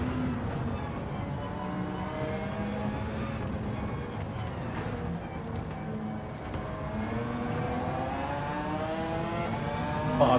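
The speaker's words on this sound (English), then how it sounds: "that McLaren sounds wonderful" A McLaren race car engine in Gran Turismo 7 drones steadily and loudly throughout, with harmonic pitch rising and falling as it revs and shifts, continuous and close.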